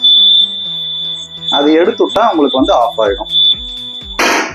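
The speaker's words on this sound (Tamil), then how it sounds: "ஒரு பீப் சவுண்ட் வந்து வந்துட்டே இருக்கும் இந்த வண்டியில." A steady, high-pitched warning beep sounds continuously from a 2025 TVS Jupiter 125 scooter with its side stand down, running beneath someone talking close by and ending with a short burst of noise.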